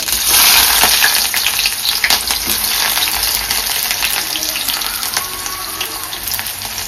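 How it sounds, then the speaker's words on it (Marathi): Onion and mustard seeds hit hot oil for a tempering for seasoned rice, giving a loud, steady hiss with scattered crackles and a few stirring scrapes throughout. "आणि कांदा सुद्धा फोडणीला देते।"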